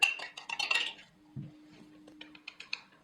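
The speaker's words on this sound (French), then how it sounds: "dans un grand plat, on va venir casser les œufs et venir les mélanger avec la ricotta" Eggs cracked into a large dish and mixed with ricotta for a ricotta, apple and blueberry cake: a cluster of clinks and taps against the dish, a brief knock, then lighter scattered clinks of stirring, close and fairly quiet.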